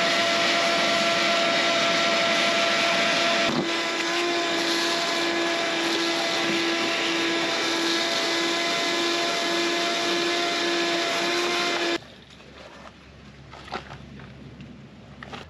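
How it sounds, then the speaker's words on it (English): A vacuum cleaner runs with a loud, steady whining roar as it sucks up rust inside an old Chrysler wagon left sitting for 32 years, its pitch shifting briefly before the motor cuts off near the end. "But first, let me vacuum this rust up."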